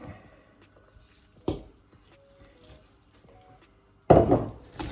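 Two wet, squelchy thuds, one brief and one heavier, as seasoned meat drops into a pot for an oven bake, with quiet scraping between them.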